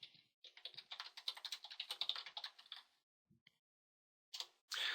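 Typing text on a computer keyboard in AutoCAD: a quick, close run of light key clicks lasting a few seconds, a couple of isolated taps after a pause, then a final short burst of keystrokes.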